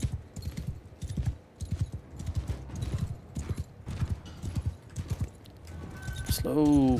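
Horses in the video game Mount & Blade II Bannerlord clip-clopping in a steady walking rhythm of hoof strikes, with someone talking over them and a whinny near the end.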